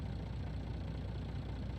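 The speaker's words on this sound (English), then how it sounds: "Go ahead and fire up the truck. Get it nice and warmed up." Truck engine idling in Farming Simulator 19, a low, steady rumble at moderate volume with no distinct start, continuous throughout.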